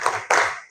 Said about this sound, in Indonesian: mari biar lebih semangat kita tepuk semangat dulu, oke?